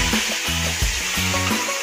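Sauce hitting a hot sizzling plate of beef liver bistek with potatoes, a loud, continuous hiss and crackle of frying close by with a few faint clinks.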